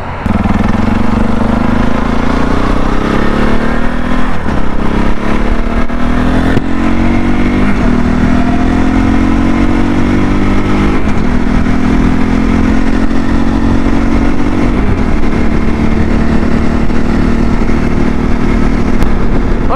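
CSC RX4 motorcycle engine cruising during break-in, a steady loud droning hum with gentle pitch rises and falls as the rider shifts and varies throttle, close and continuous with wind noise and no talking.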